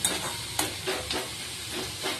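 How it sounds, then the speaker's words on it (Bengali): Potato peels and cauliflower greens with green chillies fry in oil, a soft, steady sizzle broken by scraping stirs with a spatula, fairly quiet and with no voices. "দিয়ে ভালো করে এটা ভাজা ভাজা করে নিতে হবে"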